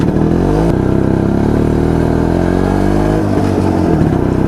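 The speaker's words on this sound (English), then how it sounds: "I don't want to push this motorcycle up to its limits because I don't want to ruin it" An old Jawa Yezdi D250 Classic two-stroke motorcycle is ridden, its engine close and loud with a rattly, buzzing drone that rises and falls through gear changes and throttle shifts.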